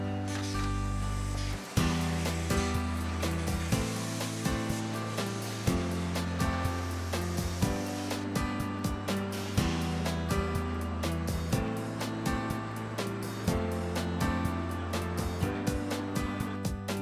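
Dairy packaging line machines run continuously in a milk plant, a loud steady mechanical roar with regular rhythmic clanks and thumps repeating throughout, no voices.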